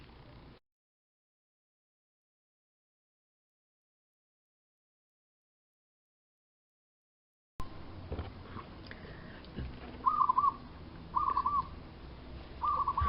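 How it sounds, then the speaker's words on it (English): Birds singing outside, faint repeated chirping phrases heard indoors after a long stretch of silence, distant and soft against low room noise. "I hear the birds outside."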